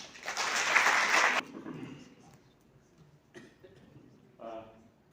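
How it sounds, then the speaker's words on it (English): An audience at a workshop in Srinagar claps as a professor is welcomed, a burst of applause about a second and a half long that fades, followed by quieter room sounds and scattered noises. "please welcome Professor Ganai sir with a round of applause."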